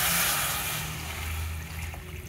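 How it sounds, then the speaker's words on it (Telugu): Water poured into a pan for cooking semiya (vermicelli) gives a continuous hissing rush that starts loud and close and slowly tapers into softer splashing, with no talk. "ఇప్పుడు ఇందులో సేమియా ఉడకడానికి సరిపడా వాటర్ పోసుకోవాలి"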